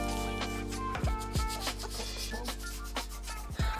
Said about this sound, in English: always be sure to scrub the underside of where the sink and the countertop meet